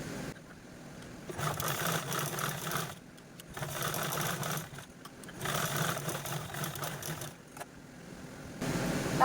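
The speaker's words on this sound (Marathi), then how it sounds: "तर चला आता आपण या तीन बाजूने स्टिच करूया" A sewing machine stitches the sides of a foldable shopping bag in several bursts of fast, even whirring, with short quiet pauses between runs.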